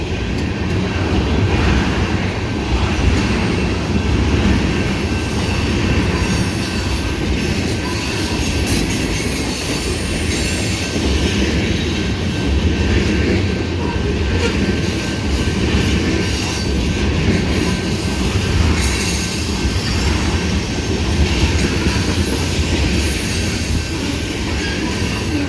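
A long freight train of tank cars, boxcars and a center-beam car rolls steadily past close by, a dense continuous rumble with wheel squeal and rhythmic clacking throughout, no voices.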